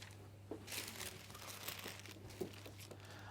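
A sheet of cellophane being handled for a Valentine's red rose hand-tied bouquet gives faint, continuous crinkling and rustling with a few sharper crackles, close and quiet over a low steady hum.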